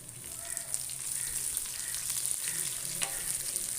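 Cumin seeds and curry leaves sizzle in hot oil for a tempering, a close crackling fry with scattered sharp pops and stirring over a constant hiss.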